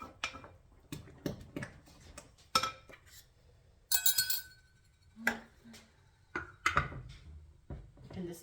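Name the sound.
stirring a yeast mixture in a glass bowl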